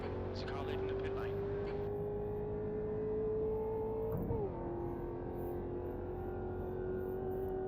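A race car engine drones steadily in the pit lane of a racing sim at Laguna Seca, its pitch holding then dipping as it shifts, with voices talking over it.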